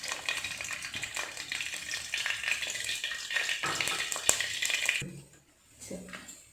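Cold-pressed groundnut oil in a pan crackles and sizzles with a busy, close frying hiss that cuts off abruptly near the end, leaving quiet.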